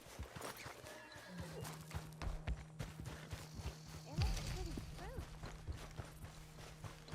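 Horse hooves clip-clop in Red Dead Redemption 2, an irregular run of fairly close steps with a snort or whinny partway through, while someone talks over them.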